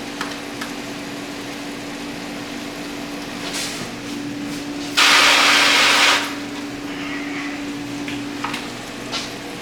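Butter sizzles in a hot pan while cooking a breakfast omelet, a steady soft crackle with a sudden louder hissing surge lasting about a second, set against a constant low kitchen hum.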